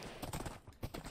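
Horse hooves in the Minecraft game clip-clop in quick, soft, faint beats, a few steps in a short burst with no talk.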